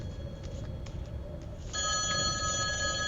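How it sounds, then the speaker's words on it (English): A telephone rings in the video game The Darkside Detective. Low background noise comes first, then a bright, sustained electronic ring starts partway through and continues clearly to the end. "Ring, ring. There's the phone call we made."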